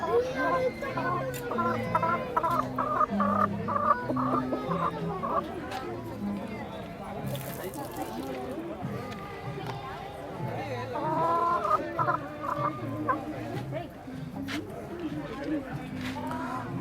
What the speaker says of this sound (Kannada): ಕೋಳಿಗಳು